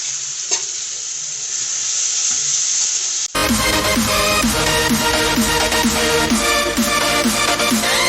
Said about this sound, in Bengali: তাই দেরি না করে ঝটপট বানিয়ে ফেলছি রাত্রের ডিনারের জন্য ঘুগনি।